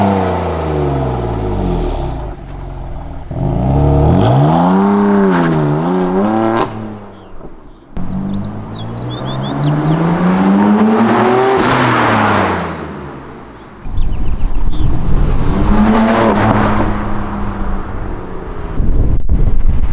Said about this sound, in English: we're gonna do a couple revs, and then we're gonna do a couple passes and see how the exhaust sounds